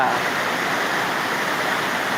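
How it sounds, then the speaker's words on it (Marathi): Heavy monsoon downpour with water rushing and flowing around the Balumama temple at Belmachi, a dense, steady roar that stays loud and unbroken throughout. "बाळोमा मंदिर बेलमाची या ठिकाणी मुसळधार पाऊस चालू झालेला आहे"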